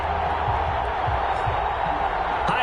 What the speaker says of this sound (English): This crowd is ready as their guys get set to match up between the Seattle Seahawks and the Las Vegas Raiders.